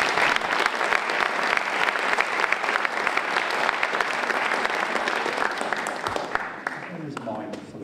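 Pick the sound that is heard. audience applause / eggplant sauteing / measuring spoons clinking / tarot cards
audience applause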